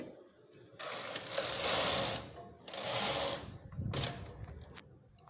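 A knitting machine carriage sliding across the needle bed while making a baby romper: three loud rasping, clattering mechanical sweeps, each lasting about a second, close by with short pauses between.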